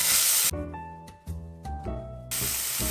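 Onion sautéing in a pan with ground coriander and coriander seed, a steady loud sizzle that breaks off into quieter stirring and pan noise before the full hiss returns at the end.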